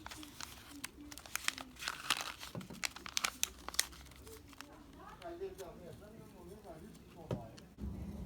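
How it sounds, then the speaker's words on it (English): Excess expanded Gorilla Glue foam being shaved off a knife handle, a close series of irregular crinkly scraping and cutting strokes, with someone talking over parts of it. "there's quite a bit of foam present, and I'm going to shave it off"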